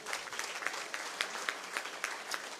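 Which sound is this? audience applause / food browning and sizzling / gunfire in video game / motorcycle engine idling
audience applause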